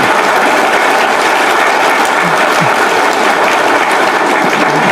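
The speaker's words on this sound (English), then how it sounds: "I thought I deserve an applause for that." Steady, loud applause from a lunch-gathering audience at a general meeting, continuous clapping with no talk over it.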